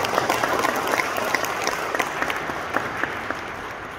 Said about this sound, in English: I think we give Father Francis a round of applause for this one